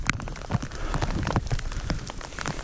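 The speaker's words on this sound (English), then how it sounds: "You can probably listen to the rain" Steady rain patters densely on a surface nearby, with scattered louder drops and no voices.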